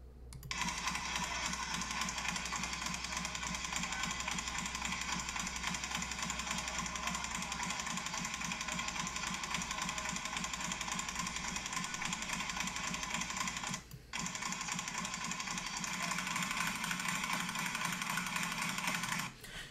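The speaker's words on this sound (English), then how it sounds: "Pretty sure you guys can hear the difference between the speed bags. The other ones sound different." Speed bag hit in a rapid continuous rhythm, giving a dense, steady rattling drum of fast impacts that keeps going almost without pause, with one brief break.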